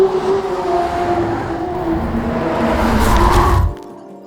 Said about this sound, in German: Identisch ist dieser Sound, dieser 10-Zylinder.